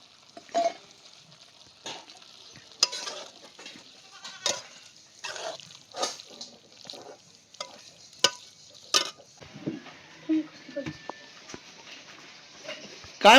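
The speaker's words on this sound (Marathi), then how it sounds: "गवार बी चांगली शिजली आता हे वाटण टाकून घेते त्याच्यात" Spice paste hits cooked cluster beans in a pan, giving soft sizzling and irregular scraping stir strokes. Goats bleat faintly in the background of a rural home.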